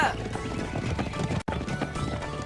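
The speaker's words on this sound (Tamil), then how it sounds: "அங்க பாத்தியா 7 குதிரைகளும் கிளம்பி போய்கிட்டு இருக்கு." Seven horses run off in a dense clatter of clip-clopping hooves with busy animated background sound throughout, briefly dropping out midway, with no clear speech.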